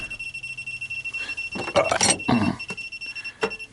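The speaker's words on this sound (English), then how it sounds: "That is annoying, that beeping." An SEC E9 key-cutting machine beeps repeatedly with a sensor error, giving a steady, rapid electronic alarm pulse that carries through the clip, with some handling clatter in the middle.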